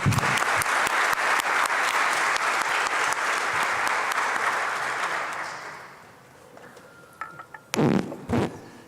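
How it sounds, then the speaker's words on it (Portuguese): Audience applause in a legislative chamber greeting a speaker at a special session, dense sustained clapping that fades out after about six seconds, followed by a few scattered thumps and knocks. "Uma salva de palmas."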